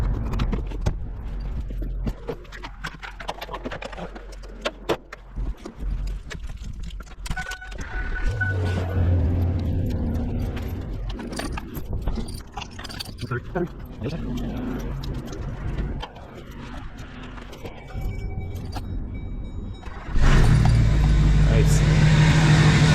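Snow plow trucks, an F350 and a GMC, idling in a garage to warm up, a low engine rumble under clanks and a spoken word, with a louder, closer idle taking over near the end.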